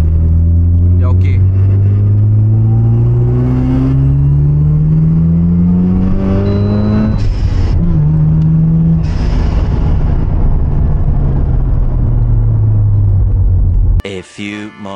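A Mazda RX-7 FC3S rotary engine pulls away while driving, its loud rumbling drone rising in pitch through several revs and gear changes, close and continuous before cutting off abruptly near the end.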